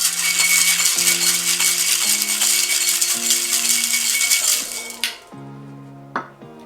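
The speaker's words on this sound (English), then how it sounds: "We're gonna pour in our cocktail, give it a nice little whack, and then whip shake for about 5 to 8 seconds" Rapid rattling of ice in a metal cocktail shaker holding a Mai Tai, shaken hard and continuously for several seconds, then a couple of sharp clinks as it stops.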